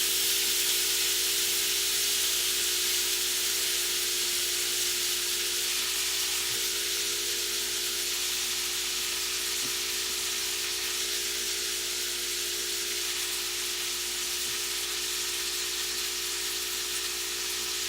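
A pork steak sizzles in butter in a pan, producing a steady, continuous frying hiss that holds evenly throughout with no one talking.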